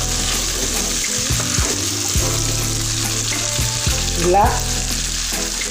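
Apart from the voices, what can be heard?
Jamaican rice with beans and chorizo frying, being stirred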